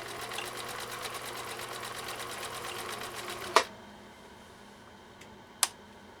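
A 1962 Husqvarna Viking 19E Special sewing machine stitches a zigzag with a quiet, rapid mechanical whir that runs steadily for about three and a half seconds. It stops with a click, followed by near silence and another small click.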